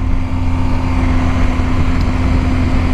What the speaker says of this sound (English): Enjoy the amazing sound that this BMW makes with that Boxster engine.